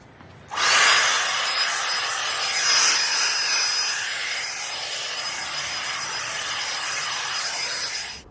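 A Makita power tool starts abruptly and cuts continuously for several seconds outdoors, a loud, bright, steady buzzing whine with a high tonal edge, holding level until it stops.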